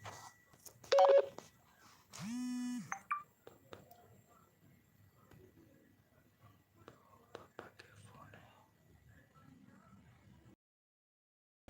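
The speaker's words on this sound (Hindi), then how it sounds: "अच्छा पापा का फोन है" A phone rings with a short electronic tone burst, followed by quiet rustling and faint, whispery talk.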